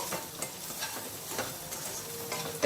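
Eggs frying in a pan being stirred and mixed while preparing spicy egg biryani, a soft continuous sizzle with light irregular scraping strokes, fairly quiet and close, ending in a brief sharp knock.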